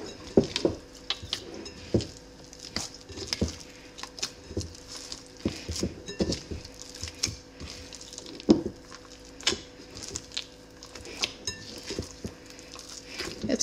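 Jalapeno being worked into sourdough bread dough by hand, wet sticky squelches and soft slaps in an irregular stream at close range, with a few light clinks, and no talking.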